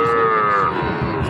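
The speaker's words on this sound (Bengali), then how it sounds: "চমৎকার সাইজের বকনা গরু।" A heifer calf lets out one loud, close, drawn-out moo lasting over a second at a busy cattle market, with faint crowd murmur underneath.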